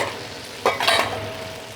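Shrimp and noodles sear in a hot pan for pad see ew, a steady close sizzle with a brief burst of stirring and scraping in the middle, no voices.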